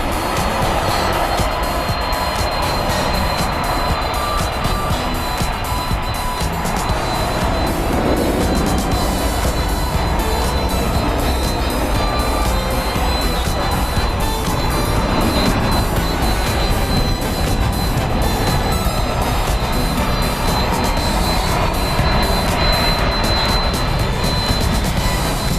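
A jet airliner bound for Seoul rolls along a runway at DFW airport at night, its steady broadband engine roar and a high whine holding at a constant loudness for the whole stretch, with no speech over it.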